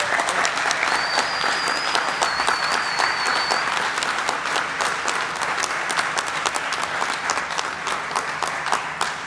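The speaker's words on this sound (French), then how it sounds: "je crois que si vous pouvez les applaudir" Sustained audience applause at a farriery conference closing session, a dense, even wash of many hands clapping that continues without break.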